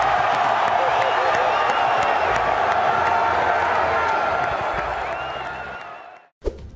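A large E3 2014 gaming-expo audience roars with dense cheering, whooping and applause that holds strong, then fades away over several seconds before a brief cut to silence.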